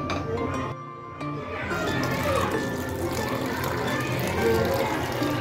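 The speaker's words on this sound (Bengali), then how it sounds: "হালকা উষ্ণ একটু গরম জল দিয়ে আমি এই ব্যাটারটা" Warm water pouring steadily into a rice flour batter, a continuous splashing gush close by that runs through the whole stretch.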